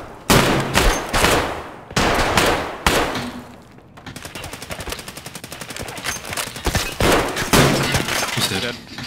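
Shotgun gunfire in a video game: several loud blasts come in quick succession, followed by a stretch of rapid, rattling automatic fire, with players talking throughout.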